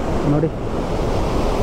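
Abbi Falls at Magajahalli pours strongly, a loud, steady broadband rush of falling water close by, with a person briefly speaking over it.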